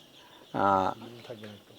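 Sonali chickens in a modern controlled poultry shed in Sylhet give one loud, close cluck followed by a couple of softer, shorter calls.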